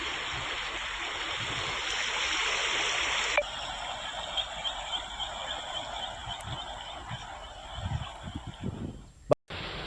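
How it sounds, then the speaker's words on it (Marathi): The Bhima river flows in full flood, a steady broad rush of water that continues throughout, briefly interrupted near the end by a short dropout. "आपण बघतोय भीमा नदीचं पात्र दुथडी भरून वाहत आहे."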